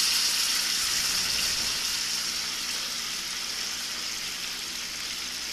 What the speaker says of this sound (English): she's at a boil